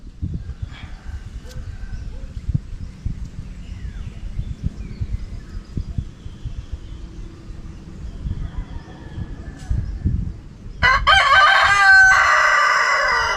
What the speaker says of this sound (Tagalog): Ganda ng talak na manok ah.